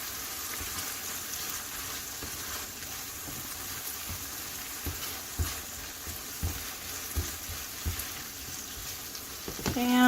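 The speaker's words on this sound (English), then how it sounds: "And just stir that together really well." A reduced sauce seasoned with salt sizzles steadily in a pan while a utensil stirs it, giving soft, irregular scraping and bubbling bursts with no talking.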